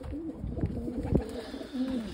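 White homing pigeons in an aviary give low throaty coos, two or three wavering calls close by over a steady background hum, with a few light knocks and rustles between them.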